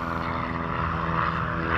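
Steady, close propeller drone of a Beechcraft Bonanza taking off at the Sun 'n Fun 2018 fly-in. The engine tone is continuous and even throughout and grows slightly louder at the end, with no speech.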